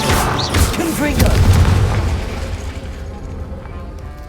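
Confringo, an explosive fire spell, goes off in Hogwarts Legacy, giving a loud booming blast with a crackling burst that lingers and fades, while dialogue and spell effects run underneath.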